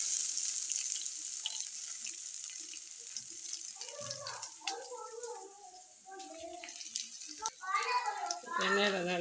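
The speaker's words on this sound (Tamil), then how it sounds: "எண்ணெயில் நல்லா பொரியுது பாருங்க" Spices frying in oil for rasam, giving a constant high sputtering hiss throughout while a person talks over it for most of the stretch.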